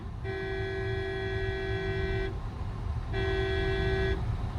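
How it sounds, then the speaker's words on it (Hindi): A car horn blares in two long, steady honks on a narrow road with a truck alongside, each about two seconds, separated by a short pause, loud and close. "लॉन्ग हॉर्न प्रेस करो"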